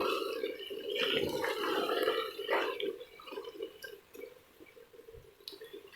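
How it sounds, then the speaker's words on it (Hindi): Water is poured into a cooking pot of chicken and pumpkin, splashing and bubbling softly with a few gurgles and drips, fairly quiet and close. "अब इसमें 1 कप पानी शामिल करेंगे"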